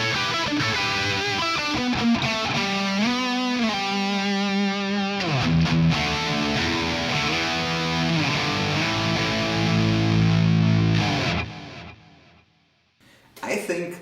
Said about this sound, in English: when I now put in the effects, I have a ping pong delay and a standard reverb.